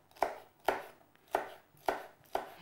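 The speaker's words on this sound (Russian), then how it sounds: "Одна палочка сельдерея, тоже нарезанная кубиками." Bell pepper and celery being cut into cubes with a knife on a board, five crisp evenly spaced chops close up and quiet, with no talk.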